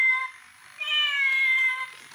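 Two electronic meows from a plush toy cat, a short one followed by a longer, higher mew, close and fairly loud.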